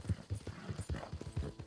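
Mule hooves clip-clopping in Red Dead Redemption 2, ridden without a saddle: quick, even hoofbeats in a steady trotting rhythm, soft and close, alone with no talk.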